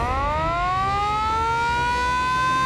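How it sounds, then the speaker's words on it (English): A steady civil-defense alert siren warning of Cyclone Fani wails alone, its tone rising gradually and holding loud and continuous throughout. "People were warned through alert sirens"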